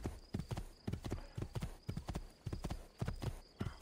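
Rapid hoofbeats of a galloping horse in Assassin's Creed II pound in a steady rhythm, sharp and close, with no talking over them.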